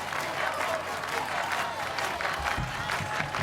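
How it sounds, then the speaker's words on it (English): A crowd at an American Ninja Warrior Kansas City Finals course cheers and claps in a dense, continuous roar that stays loud throughout. "The crowd erupting in support"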